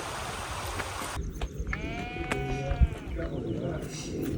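Sheep bleat a few times from nearby during a lunch stop on a steep, rocky hillside by a lake, over wind and outdoor background noise.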